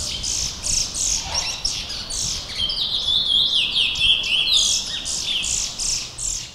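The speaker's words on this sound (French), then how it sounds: "des picolettes, de petits oiseaux chanteurs très prisés en Guyane" Picolettes, small songbirds kept in homes in French Guiana, chirp and trill close by in rapid repeated phrases, one bird breaking into a longer warbling run mid-way while others keep tweeting.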